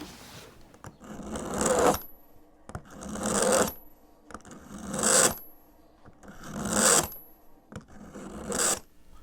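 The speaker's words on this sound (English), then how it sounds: "I modified my meat slicer to hopefully do a better job of cutting" A modified meat slicer cuts pipe tobacco in five evenly spaced rasping strokes roughly two seconds apart, each a close, loud scrape with short quiet pauses between, with no talking.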